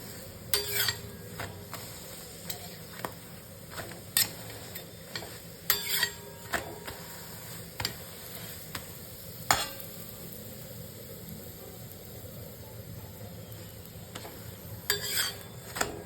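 Wheat flour paratha frying in a hot pan, a soft steady sizzle underneath with scattered sharp clicks and scrapes of a spatula pressing and turning it, no talking.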